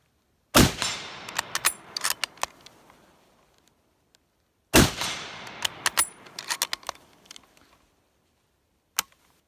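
Two loud, sharp rifle reports from an American Enfield M1917 fired outdoors, each followed by a long decaying echo and a scatter of smaller metallic clicks and clatter from working the bolt, with a faint click near the end.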